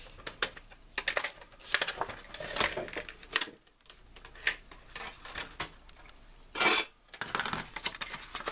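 A stylus scores paper in the groove of a scoreboard during card making, giving a run of light scratchy strokes and taps with brief pauses, close and fairly quiet.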